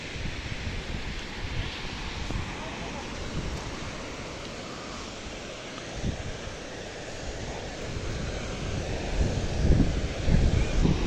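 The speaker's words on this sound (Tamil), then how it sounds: "நல்ல தரமான கடல் காற்று வீசுது." Strong sea wind blows across the microphone on the coast at Valvettithurai, a continuous roaring rush with gusts swelling louder toward the end.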